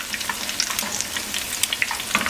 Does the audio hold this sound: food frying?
yes